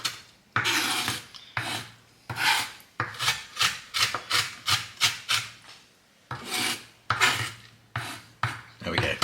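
Apples being chopped on a board for apple crumble cold brew, a rapid series of close, loud rasping knife strokes in uneven bursts with short pauses.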